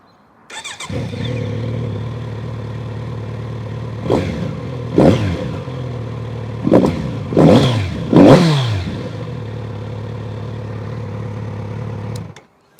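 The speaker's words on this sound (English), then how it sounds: "The exhaust that they've matched to this engine and the intake, obviously, they've been tuned for a nice exhaust note, and it is exceptional." A 2021 Kawasaki Z900RS starts and idles close by, then its engine is blipped several times, with rising and falling revs, an exhaust note and intake roar between steady idle stretches before cutting off.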